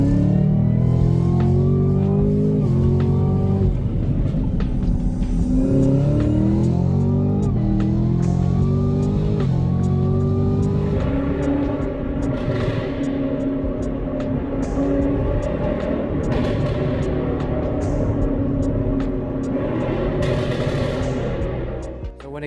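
A 2018 Chevrolet Camaro ZL1 with an aftermarket intake revs its engine, loud and close, with rising and falling pitch sweeps over a continuous deep rumble that lasts throughout.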